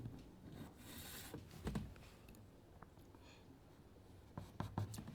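Soft scratchy strokes of drawing lines on a writing surface during a math lesson on angles, faint and close, with a couple of slightly louder scrapes near the start and end.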